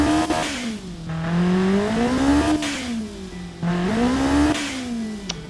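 In a driving or tuning video game, a turbocharged car engine revs hard at full throttle, rising and falling in repeated sweeps about every two seconds, loud and close with a buzzy tone and a faint whine.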